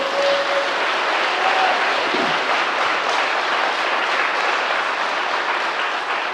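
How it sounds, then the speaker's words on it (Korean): A congregation applauds at a church inauguration ceremony in Gapyeong, a loud, sustained, even roar of clapping that fills the hall from start to finish. "한번 박수 한번 부탁드리겠습니다"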